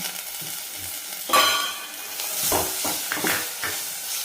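Chopped tomato goes into a hot pan of oil and spices, setting off a sudden burst of sizzling that settles into a steady fry, with a few stirring scrapes over the next few seconds.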